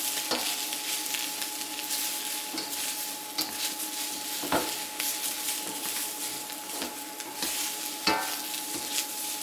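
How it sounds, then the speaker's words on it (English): Beef, snow peas and sliced shiitake mushrooms being stir-fried, a continuous close sizzle broken by repeated clacks of a utensil against the pan at irregular intervals, with no talk. "Stir everything up. We're also going to add 1 cup of sliced up shiitake mushrooms."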